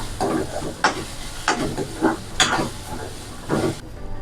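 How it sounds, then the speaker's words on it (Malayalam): Grated coconut frying with chili powder and turmeric for jackfruit thoran, stirred in a pan: a low continuous sizzle broken by regular scraping strokes roughly every half second. "തേങ്ങ ഒന്ന് മൂക്കുമ്പോഴേക്ക് ഒന്ന് ഇളക്കി കൊടുക്കുക"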